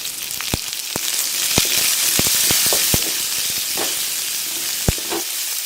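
Onions and green chillies sautéing in a pan over a simmer, a steady close sizzle broken by sharp crackles and pops, no talking.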